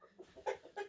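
Hen clucking nearby in a Romanian farmyard, three or four short, nasal clucks in quick succession, the last two louder and sharper.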